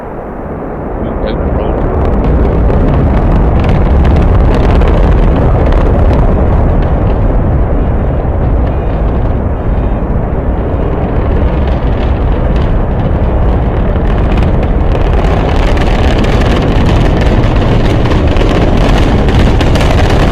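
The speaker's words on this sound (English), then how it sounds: "Ignition. And liftoff." A SpaceX Falcon 9 rocket ignites and lifts off carrying two lunar landers, a sustained loud, crackling roar that fills the whole stretch without pause, with an announcer's voice faintly present.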